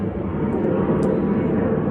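A plane passing overhead above a creekside cottage, heard as a steady, broad rumbling drone at moderate loudness, holding constant throughout with no voices.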